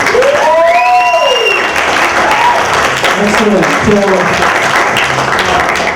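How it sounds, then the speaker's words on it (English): Audience applauding the cast and crew at a Q&A session for Hollywood and Vine, a steady, loud patter of clapping running under someone speaking. "let's give them another round of applause,"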